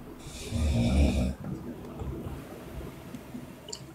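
A person snoring: one loud, rasping snore lasting about a second, then a low murmur of background noise with faint sounds.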